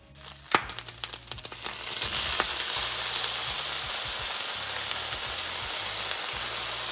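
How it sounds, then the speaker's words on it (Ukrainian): Bacon fries in a pan for carbonara, a few crackles and pops at first, then a loud, steady, dense sizzle that continues without talk. "бекончик треба обсмажити до максимально такого темного кольору"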